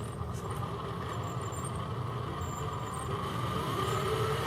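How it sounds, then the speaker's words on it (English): An RC Grand Hauler truck with a Hobbywing Fusion brushless motor runs in first gear, its gearbox and steering servo giving a steady mechanical whine over a constant low drone, close and continuous with no talking. "the gearbox and the servo for the steering are louder than the motor"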